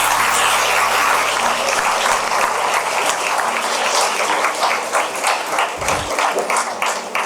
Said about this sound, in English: The applause said it all.